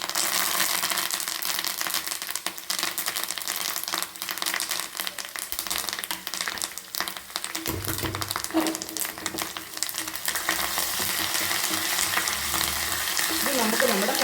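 Kashmiri chilli and curry leaves crackle and sizzle in hot oil for a tempering, a dense, loud, continuous frying hiss with occasional stirring scrapes, close up and without talk.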